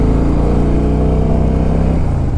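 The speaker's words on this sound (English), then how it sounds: "Oh, this runs like a completely different bike." A 2007 Harley-Davidson Softail Deluxe with a compensator eliminator fitted runs loud and close, its engine a steady, throbbing rumble that dips slightly in pitch near the end.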